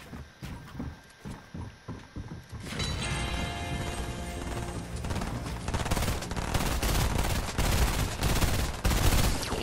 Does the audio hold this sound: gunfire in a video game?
yes